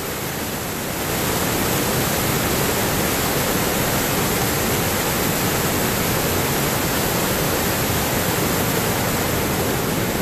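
Waterfall pouring off a cliff face into the Colorado River, a loud, steady broadband roar of rushing water that swells in within the first second and holds constant.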